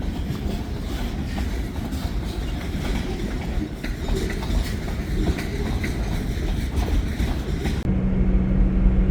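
A freight train rolls past on a line toward Green Bay, a steady loud rumble and rattle of cars continuing throughout with no break.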